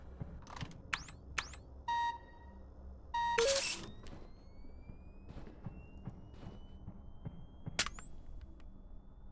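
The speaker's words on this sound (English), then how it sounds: "Oh, alarm, great." Sharp electronic beeps and a rising synthetic sweep from an alarm in a FNAF fan game, with short tonal blips, a louder buzzing burst mid-clip and a faint whining tone over a quiet mechanical hum.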